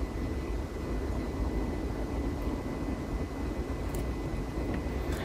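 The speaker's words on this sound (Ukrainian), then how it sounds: "І чути, як працює кулер." The cooling fan of a portable power station runs steadily, a faint, even, continuous whir with low hum and no change throughout.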